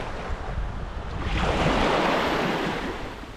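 Sea waves on a Cozumel beach wash in with a broad rushing swell that builds and fades, mixed with gusting wind noise and no voices.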